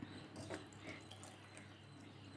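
Water is poured into a pan of jaggery to dissolve it while making Bombay-style poli, a steady close splashing stream that runs without pause for a couple of seconds with no one talking.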